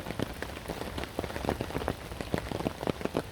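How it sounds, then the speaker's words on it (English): Torrential rain drums on a tarp overhead, a dense patter of close, sharp drops hitting the fabric in a steady outdoor downpour. "It's still belting down the rain, torrential."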